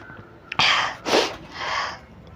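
A person sneezes during a Tamil sneezing challenge, three loud breathy bursts in quick succession, each a sharp explosive burst with no talk around them.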